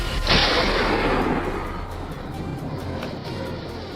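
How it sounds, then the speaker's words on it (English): A rapid burst of rifle gunfire during a wild boar hunt on a hillside, a sharp loud crack followed by a fading rolling rumble and echo outdoors. "A rapid burst of gunfire followed."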